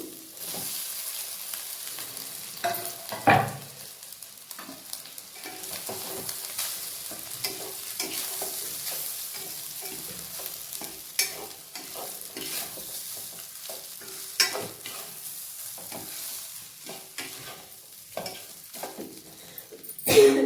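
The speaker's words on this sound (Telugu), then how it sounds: "ఒక 2 నిమిషాలు ఇట్లా ఫ్రై చేసేసుకొని ఆఫ్ చేసుకుని సరిపోతుంది." Egg fried rice is stir-fried in a hot pan, with a constant sizzle and repeated scraping and tossing from a spatula going on throughout. It is close and moderately loud, and no one talks.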